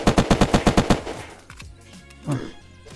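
Unturned survival game firefight: a quick burst of roughly eight loud, evenly paced automatic gunshots, trailing into quieter background noise with a brief low thud near the end.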